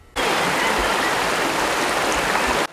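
Creek water rushes steadily through Wujie gorge, a close, dense, continuous flow with no voices.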